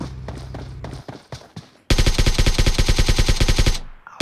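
PUBG Mobile gunfire starts as a few scattered sharp shots, then breaks into a loud, fast automatic burst of evenly spaced rounds lasting about two seconds before stopping abruptly.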